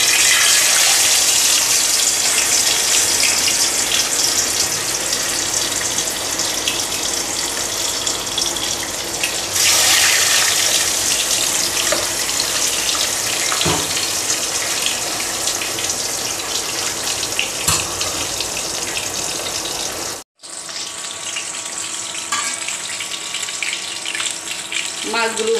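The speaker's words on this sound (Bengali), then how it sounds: "চুলায় একটি ফ্রাই প্যান বসিয়ে দিয়েছি, তেল দিয়েছি, তেলটা গরম হয়ে গিয়েছে। এখন মাছগুলো ভাজতে দিয়ে দিচ্ছি।" Fish sizzling in hot oil in a frying pan on a stove, a loud, steady hiss and crackle that runs for a long stretch, briefly cutting out before resuming more quietly.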